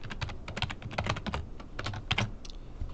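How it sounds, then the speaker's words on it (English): Rapid typing on a computer keyboard, a string of crisp close-up key clicks in uneven bursts with brief pauses, heard alone without talk. "We're going to type instantiate"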